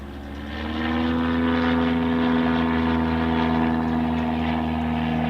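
General aviation propeller aircraft at Paine Field, its engine swelling into a steady, loud droning hum after a quieter start and holding close by.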